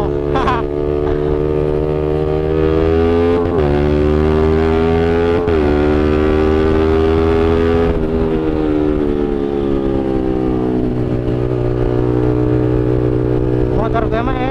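A Suzuki Satria FU motorcycle rides at night, its engine droning loudly and steadily while the pitch climbs and drops through several gear changes, with riders talking over it.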